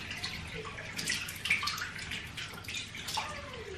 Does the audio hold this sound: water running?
yes